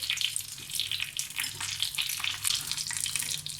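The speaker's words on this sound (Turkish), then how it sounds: "Kızartmaya devam ediyorum." Oil sizzles and crackles steadily at close range as yufka pastry (börek) fries, a busy hiss of frying with no voices.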